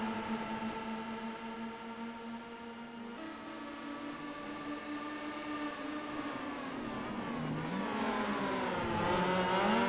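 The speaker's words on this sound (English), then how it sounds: "See the cars working their way through the corkscrew." Race cars in the iRacing sim racing game roar through the corkscrew section of the track, their engine notes droning and shifting pitch as several cars pass, loud and continuous with no talk.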